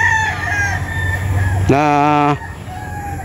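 A gamecock stag crows once, a loud, close, ringing cock-a-doodle-doo lasting under a second, with a voice talking in the background before and around it.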